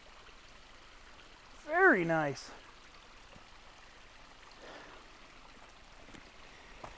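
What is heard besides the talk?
small creek running along a hiking trail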